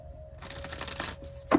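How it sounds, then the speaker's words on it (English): Cardstock tarot cards being shuffled, a brief riffling burst of papery flicks at close range that ends in a sharper tap, with no talking. "The way this deck is shuffling"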